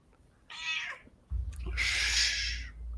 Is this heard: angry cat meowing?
yes